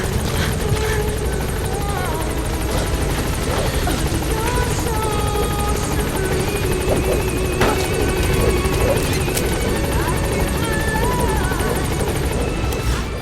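Continuous thumping rotor drone of a support helicopter arriving in Metal Gear Solid V: The Phantom Pain, close by and steady, with faint electronic chirps and distant voices layered over it.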